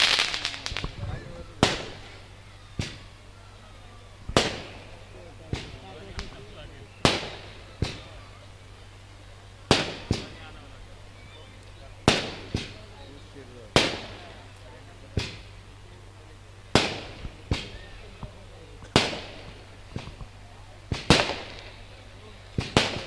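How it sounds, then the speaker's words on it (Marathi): Firecrackers bursting outdoors at a political gathering, a long irregular series of sharp loud bangs, each followed by a brief decay, with voices and crowd noise in between. "अरे दोन हजार चोवीसच्या इलेक्शनला फटाके वाजवायला ठेवा ना थोडेसे आताच वाजून टाकायचे"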